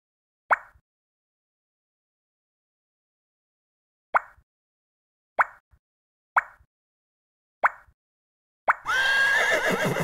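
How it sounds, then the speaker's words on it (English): A cartoon horse whinnies near the end of an iPhone shape builder puzzle game, loud and close, after several short plopping taps spaced across the quiet. "like horse."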